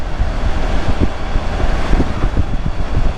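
Breezy spring wind outdoors in western Pennsylvania, loud buffeting wind noise rumbling against the microphone throughout, no talk.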